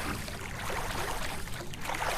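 A boat paddled along in the video game Survive The Wild, heard as a steady wash of sloshing, rushing water with no pauses and no voices.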